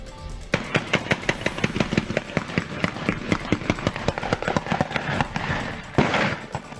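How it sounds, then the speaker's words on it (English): A rapid burst of about 20 gunshots cracks off in a residential neighborhood in Uvalde, Texas, at night, sharp reports at a steady rhythm, loud and echoing, then a final louder blast. "The sound of 20 gunshots in a neighborhood in Uvalde Sunday night."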